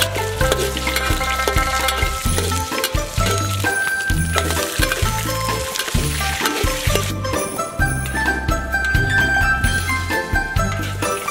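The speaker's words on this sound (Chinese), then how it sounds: "尽量多炒一会，把水分炒干，把羊肉炒香" Lamb neck pieces stir-fry in hot oil in a wok, a loud continuous sizzle with repeated metallic scraping and clinking of the spatula against the pan, no talk.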